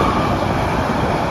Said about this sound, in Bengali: আমাদের ট্রেনটি সেই অবিরত ছুটে চলেছে